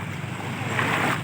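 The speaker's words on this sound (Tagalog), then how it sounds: "Umaalon-alon na guys, kaya gumagalaw yung aking camera guys." Shallow water washes against the shore where someone stands in it, a brief soft rushing swell mixed with wind buffeting the microphone.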